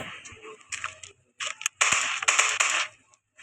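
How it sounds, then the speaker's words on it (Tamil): Gunfire in a 3D Indian bike-driving video game comes as a series of sharp, close bursts: a few scattered pops, then a denser cluster of louder shots separated by brief pauses. "துப்பாக்கி வச்சு சுட முடியுமா?"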